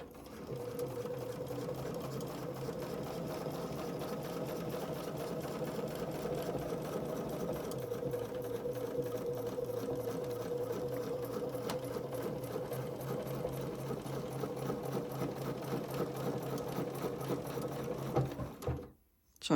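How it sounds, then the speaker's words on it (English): A sewing machine stitches continuously through fabric on a bowl cozy, a steady close mechanical whir with rapid needle rhythm for nearly twenty seconds before stopping abruptly. "So I'm just going to do a couple locking stitches there"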